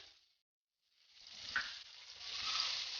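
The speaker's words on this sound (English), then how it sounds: "start with a pan or a kadai with a little oil, then little chopped garlic" Chopped garlic sizzles in a little oil in a pan or kadai, the frying hiss cutting in after a brief silence and building steadily louder with a few crackles.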